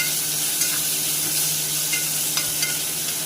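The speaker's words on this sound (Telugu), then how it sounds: "1 టేబుల్ స్పూన్ అల్లం వేసుకొని పచ్చి వాసన పోయేంత వరకు దాన్ని కలుపుతూ ఉండాలి." Chopped ginger fries in hot oil with a constant sizzling hiss while a spoon stirs it around the pan, giving occasional soft scrapes; close and steady, with no voices.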